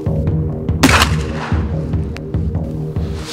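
A smoothbore hunting shotgun fires a single slug outdoors, a sharp loud blast that decays quickly against a low steady hum.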